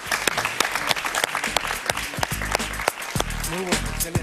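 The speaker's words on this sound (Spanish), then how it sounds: "Un aplauso para él, por favor" A studio audience on a television talk show applauds a guest, brisk clapping that runs under a voice and music throughout.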